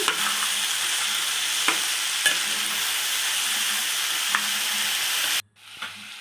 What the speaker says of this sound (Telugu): ఆ పంచగింజలను కూడా మనం దాంట్లో యాడ్ చేసేసుకుని బాగా కలుపుకోవాలి